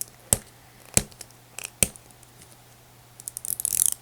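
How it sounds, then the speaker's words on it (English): Scissors snip at plastic packaging during a toy unboxing, three sharp separate cuts about half a second apart, followed by a quick run of rustling and small crinkling clicks up close. "We may have to get scissors."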